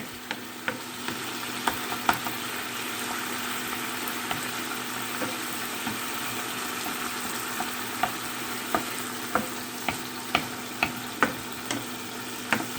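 Nacho sauce reduces in a pan with a continuous low sizzle, punctuated by small regular pops and ticks, and no voices.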